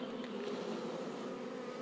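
Honeybees buzz at a spring hive visit in a dense, steady hum of many insects, close and continuous with no pause.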